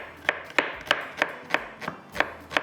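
A knife finely chopping onion on a board while making baba ganoush: about eight crisp, evenly spaced strikes in a steady rhythm, close and clear, with no talking.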